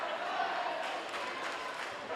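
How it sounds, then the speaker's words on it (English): A crowd at a Sulphur Springs vs. Longview men's basketball game keeps up a steady, fairly distant chant and roar throughout, with no break in the noise. "As the crowd chants"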